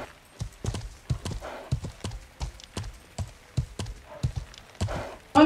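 Horse hooves clip-clopping in the Life is Feudal medieval video game, a steady walking rhythm of close, sharp thuds repeating throughout with faint background noise.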